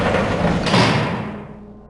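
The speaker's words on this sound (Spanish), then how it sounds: "los barrotes comenzaron a retraerse lentamente hacia el techo con un chirrido oxidado" Metal bars retracting toward a ceiling with a rusty screech: a broad grinding scrape that builds, peaks midway and then fades away as the movement ends, heard alone.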